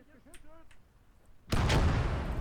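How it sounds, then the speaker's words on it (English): Artillery fire in the video game Call to Arms: Gates of Hell, a quiet stretch with a voice talking, then a sudden loud, booming blast that rolls on with heavy rumbling. "God, they bring in a lot of artillery."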